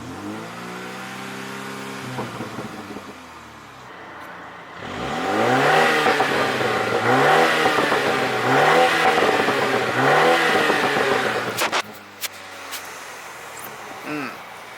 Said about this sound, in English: let's rev it